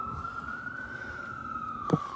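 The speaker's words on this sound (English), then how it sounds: "Too many sirens in the past few days." Emergency vehicle sirens outside, a distant, steady wailing tone drifting slowly in pitch over a low rumble of background noise, faint and far away.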